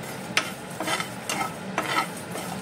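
Coriander seeds and whole spices being dry-roasted and stirred in a pan, giving repeated short scraping, rustling bursts with a faint sizzle, close and moderately loud, no talking.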